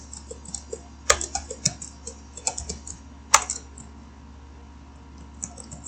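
Keys of a computer keyboard are tapped nearby in an irregular run of sharp clicks, a few louder strokes standing out, over a low steady hum and no speech.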